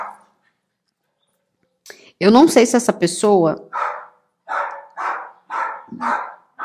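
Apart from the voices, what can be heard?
neighbour's dog barking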